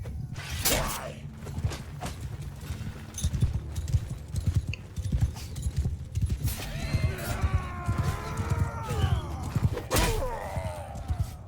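Horse hooves clip-clopping during a Mount & Blade 2 Bannerlord battle, a dense, steady patter of many hoofbeats mixed with creaking, clashing and a whinny or groan, continuing throughout at close range.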